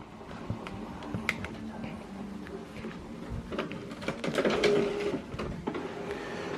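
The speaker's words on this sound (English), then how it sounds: "The next thing it's doing right now is to print alignment page." An HP Officejet 8012e printer prints an alignment page, giving a busy run of mechanical clicks, whirs and paper-feed rattles at close range, with faint talking in the background.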